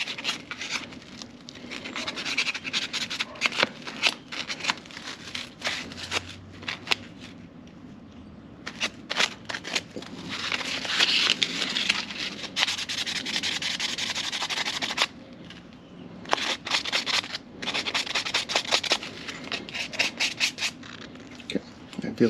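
Sandpaper rubs back and forth on a carburetor part during a float adjustment, close, rhythmic scratchy strokes in bursts with short pauses, a voice speaking briefly between passes.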